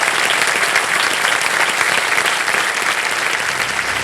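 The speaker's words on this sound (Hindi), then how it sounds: "जोरदार तालियां बज जाए इनके लिए" Studio audience on the KBC Season 16 quiz show applauds a contestant, a steady loud wash of many hands clapping throughout with no voices over it.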